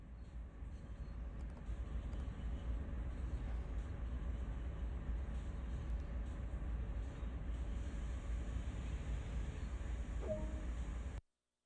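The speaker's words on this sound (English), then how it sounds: "Now bring the train to a stop." A CSX heavy haul freight train in Train Sim World 2020 slows to a stop, a steady low rumble and rolling rail noise with faint squeal that holds evenly before cutting off abruptly.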